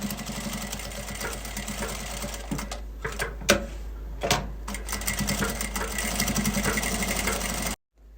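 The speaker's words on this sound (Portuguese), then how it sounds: "depois desce e segue costurando nessa reta aqui" A sewing machine stitches fabric in a rapid, close mechanical whirr of needle strokes, pausing briefly several times before running on and stopping abruptly at the end.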